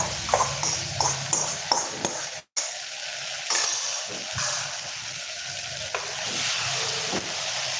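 Okra fried with chilli powder in a clay pot sizzles and hisses steadily, with stirring scrapes and brief clinks. There is a sudden short dropout partway through.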